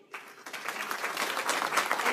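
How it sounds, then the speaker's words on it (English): Applause at a school board meeting as students receive certificates, starting after a brief quiet moment and building into sustained, fairly even clapping from the room. "if you will help me and join with applause for them"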